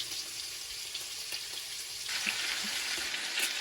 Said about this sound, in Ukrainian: Сало вже шкварчить підрумянюється.